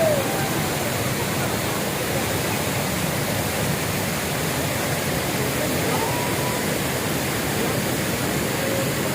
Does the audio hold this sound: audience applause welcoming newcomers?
no